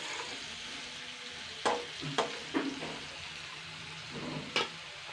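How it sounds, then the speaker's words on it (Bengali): Eggplant pieces seasoned with salt and turmeric fry in plenty of oil, a steady sizzle punctuated by several sharp scrapes and clacks of a spatula stirring in the pan. "বেগুনটাকে এরপরে আমি আবারও ভেজে নেব"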